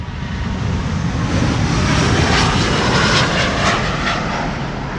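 A Cargolux cargo plane departs Amsterdam Schiphol Airport, its loud broadband jet roar swelling through the middle and easing slightly at the end, heard alone without voices.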